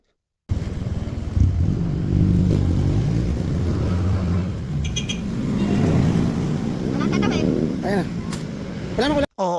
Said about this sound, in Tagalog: Ayan, sa wakas may dumating ding jeep.